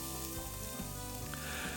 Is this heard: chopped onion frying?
yes